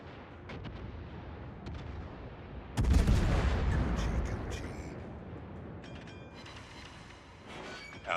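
Secondary guns of a warship firing in the naval combat game World of Warships, a sudden loud burst of booming gunfire that rolls on with crackling blasts before easing into a steady rumble.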